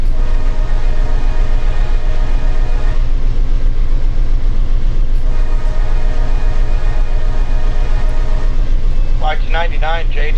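A CSX freight train, Q456, in the Run 8 train simulator rumbles along with a continuous low engine drone and rail noise. A voice briefly cuts in near the end.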